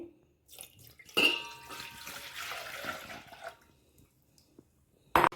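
Milk poured into a heavy-bottomed pot holding a little water, a close gurgling pour lasting a few seconds that tapers off, followed by a brief clank near the end.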